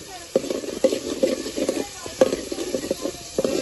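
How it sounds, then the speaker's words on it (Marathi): Masala spice paste fries in oil while it is stirred, a steady sizzle broken by repeated rhythmic spoon scrapes and taps against the pot, close and clear. "मसाला टाकून घेऊ थोडा तेलामध्ये."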